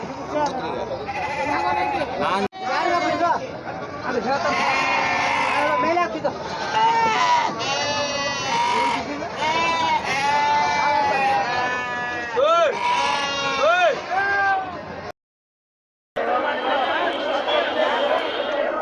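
Sheep and lambs at the Kerur livestock market bleat repeatedly, many overlapping calls near and far over steady crowd chatter and talking, with a brief silent break late on.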